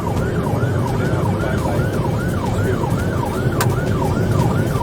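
Police car siren wailing in a steady repeating up-and-down sweep over loud road and engine noise during a high-speed chase after a stolen vehicle in Olympia, continuous and close throughout.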